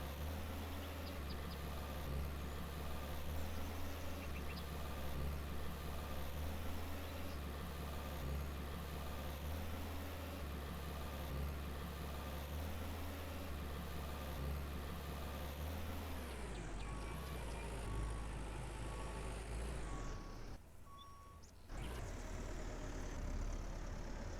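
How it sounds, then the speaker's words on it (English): A vehicle engine loop from the Farmer's Dynasty farming game drones steadily and loudly as a low, even idle-like rumble, briefly dipping near the end before resuming, with no talk. "engine loop sound."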